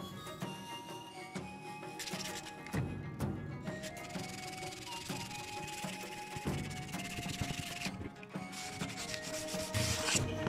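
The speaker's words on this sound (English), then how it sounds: "I just had to sand it down a bunch again to get it super smooth before it's time to paint" Steady rubbing rasp of sandpaper worked back and forth smoothing filler on a life-size LEGO scythe prop, continuous and close, with no talking.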